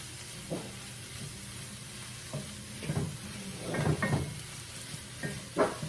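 Homemade coleslaw cooking down in a pan gives a steady, quiet sizzle, broken by several soft stirring swishes that swell and fade, close by, with no voices.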